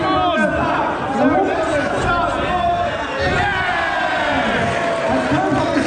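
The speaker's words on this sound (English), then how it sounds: "Big cheer from the crowd there." Crowd noise at a beetleweight robot combat event, a continuous loud roar of cheering and babble with no clear breaks, close and dense throughout.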